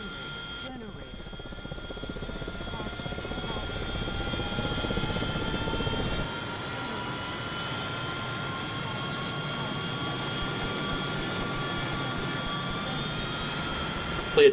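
Helicopter engine starting up in a combat flight simulator game, a steady whining turbine hum with high tonal whistles that shifts in pitch partway through, under a voice.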